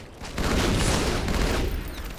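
Gunfire erupts in a clan match video game, a dense burst of rapid shots that swells and holds for about two seconds, loud and close.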